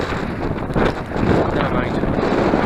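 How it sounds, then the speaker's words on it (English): Strong wind on top of Winter Hill during a bike ride, loud gusty buffeting across the microphone that rises and falls in surges, continuous throughout. "It's windy up here."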